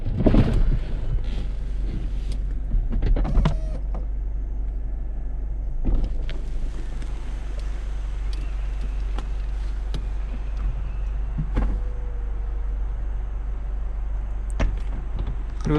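Mercedes C-Class Cabriolet soft top opening, a steady electric motor whir running throughout with a few mechanical clunks and latch thuds near the start and middle, close and continuous against a constant low rumble.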